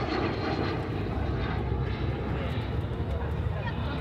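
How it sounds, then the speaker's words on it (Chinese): Red Falcon aerobatic display team aircraft flying a steep, high-load turn low past a reviewing stand, a loud steady engine roar that holds constant throughout. "单机极限盘旋再次通过观礼台"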